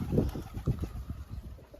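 Pigeons caught in a trap coo softly in a short run of low, pulsing calls, faint and close, with no talk over them.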